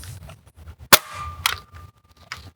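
An Adventure Force Villainator toy blaster fires flat shots outdoors: two sharp, close snapping cracks about half a second apart, followed by a fainter click, with quiet gaps between.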